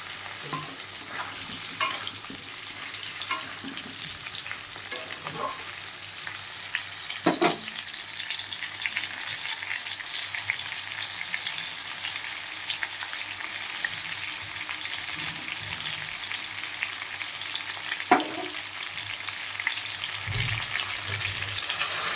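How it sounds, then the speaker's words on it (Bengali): Potatoes and pointed gourd frying in a pan, giving a steady, even sizzle with occasional stirring clatters over about twenty seconds. "আলু পটলটা বেশ ভালো করে ভাজা ভাজা হবে।"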